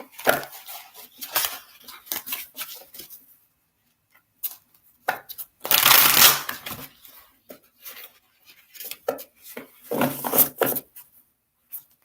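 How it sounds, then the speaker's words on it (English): Tarot cards being shuffled by hand in a quiet room: bursts of crisp riffling and tapping come in clusters, with a louder flurry in the middle and another near the end, separated by pauses. "So Brandy, I'm just shuffling while you kind of feel into"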